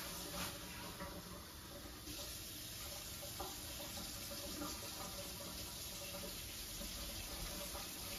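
A kitchen tap runs warm water for bagel dough, a steady close hiss of flowing water lasting several seconds, alone with no talk.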